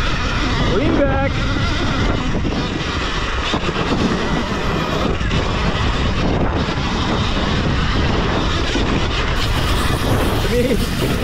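A Surron Ultra Bee electric dirt bike on stock, part-worn tires accelerates off-road with traction control off: a loud, steady roar of wind and motor whine that holds throughout without a break.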